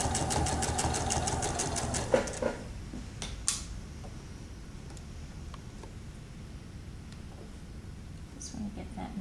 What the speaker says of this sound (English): I'm going to sew here a 1/4 inch, and then at the corner I'm going to take 1 stitch this way